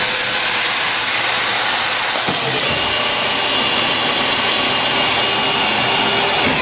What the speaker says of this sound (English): These are 5/16 self-drilling screws into 3-inch taper channel.